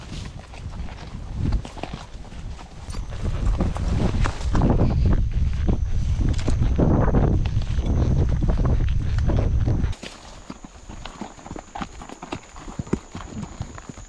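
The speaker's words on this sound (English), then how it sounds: "So we're just getting the horses ready now and then going out for a ride." Horses at an estancia in Uruguay walk out on a ride, hooves clip-clopping in a loose, uneven rhythm, close and loud, then quieter and more scattered after a cut, with faint talk.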